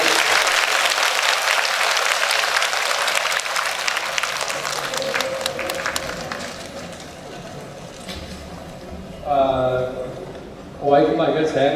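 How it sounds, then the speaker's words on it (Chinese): A crowd at a question-and-answer session in a Hong Kong Buddhist centre claps with dense, sustained applause that gradually thins and fades, then a voice speaks briefly before the talk resumes. "让我们大家再次以热烈的掌声感谢我们的普拉斯干部"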